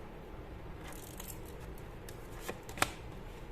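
Tarot cards are shuffled and drawn by hand, a soft close riffling and sliding with a sharp snap near the end, quiet and without talk.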